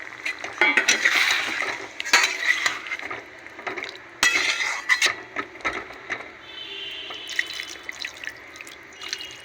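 Water is poured into a cooking pan of potato and pointed gourd with poppy seed paste, heard as bursts of splashing and dripping with clinks of the pan between them, fairly close.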